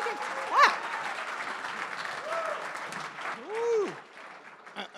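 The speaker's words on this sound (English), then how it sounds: "Round of applause, ooh, y'all. Why do I get clapped?" An audience at a startup tech event applauds the next presenter with moderate, scattered clapping, mixed with a few high whoops and cheering voices.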